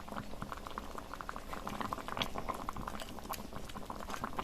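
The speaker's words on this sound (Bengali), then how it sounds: "2 মিনিট ঢাকনা চাপা দিয়ে ফুটিয়ে নেব।" Fish curry with pumpkin greens bubbles in a pot, a close, continuous patter of small popping bursts at low volume with no voices.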